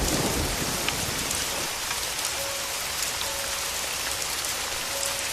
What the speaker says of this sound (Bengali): অন্ধকার গাঢ় হয়েছে, বৃষ্টিও পড়ছে।